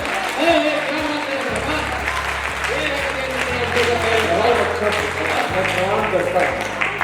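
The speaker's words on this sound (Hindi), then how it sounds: "दोनों हाथ उठा के एक बार तालियां" Applause from the audience at a Hindi poetry recital by a poet, sustained clapping mixed with a voice and low tonal sounds running underneath.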